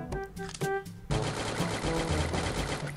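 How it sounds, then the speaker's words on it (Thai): Rapid automatic rifle fire in the Free Fire shooting game, a brief burst followed by a dense, sustained stream of close, loud shots with no talk. "ปืนไหนมันรัวกันวะ"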